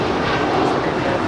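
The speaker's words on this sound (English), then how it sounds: "That is SkyWest 3303 departing to Austin. It's an Embraer E175." An Embraer E175 jet operated by SkyWest departs LAX bound for Austin, a loud, steady roar of jet engines close by, filling the whole short stretch.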